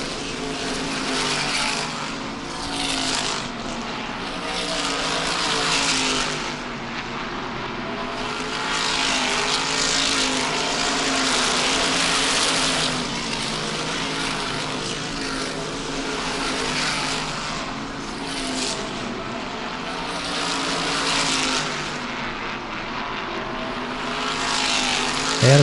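Race cars circling a track at a New England short-track event, a steady distant roar of several engines rising and fading as they pass, continuous with crowd-like ambience and no talk.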